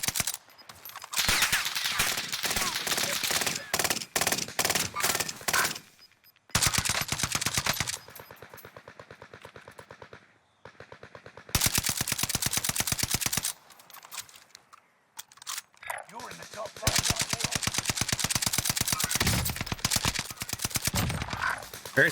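Rapid machine-gun bursts in Call of Duty Warzone, long stretches of fast rhythmic gunfire close and loud, separated by short pauses, with a voice occasionally underneath.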